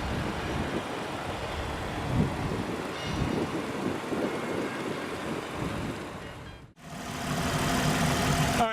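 A 2016 Toyota Avalon full-size sedan's 3.5-liter V6 idles steadily with a low, even hum, close up, then cuts briefly before resuming a slightly brighter, continuous run.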